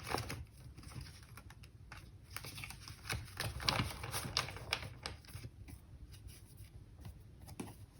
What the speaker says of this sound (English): That was some really bad shuffling, if I do say so myself.